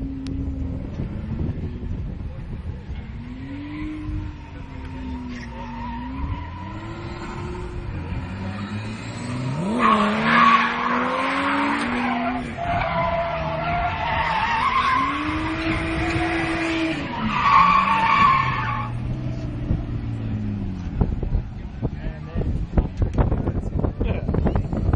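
Tires screech and skid through long drifts in the Coral Isle Drift demo game, with a rising and falling engine whine and bursts of harsher tire squeal, while people chat loosely over the gameplay.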